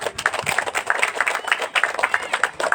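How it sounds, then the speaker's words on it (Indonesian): An audience at a formal handover ceremony for a high school head in Batu Belubang breaks into lively applause, many hands clapping in a dense, fluttering wash that rises and dips for a few seconds. "Kita beri aplaus tepuk tangan."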